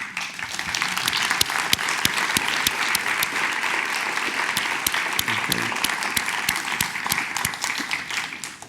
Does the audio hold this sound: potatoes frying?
no